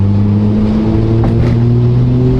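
A Toyota Soarer with a twin-disc clutch and R154 gearbox accelerates hard at full throttle in third gear, its engine droning loud and near with a steadily rising pitch.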